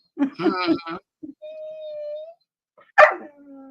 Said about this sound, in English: It's funny how everybody's dogs here will all communicate with each other.